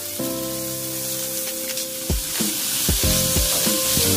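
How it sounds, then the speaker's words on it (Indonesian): Shrimp stir-fry in a wok with garlic and ginger, a loud steady sizzle broken by several sharp scraping clacks of the spatula as the pieces are tossed, with no talk. "masukkan udangnya. Aduk-aduk oseng-oseng dulu sampai udang berubah warna menjadi orange."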